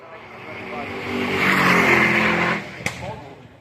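Ferrari race car climbing the Goodwood hill at a motorsport festival, its engine swelling loudly as it passes then fading, with a sharp knock near the end over outdoor crowd ambience.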